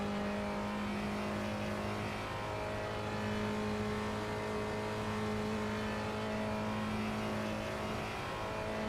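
A Porsche GT3 Cup car engine in the iRacing simulator drones steadily at high revs, a loud continuous harmonic whine with slight rises and falls, no talking.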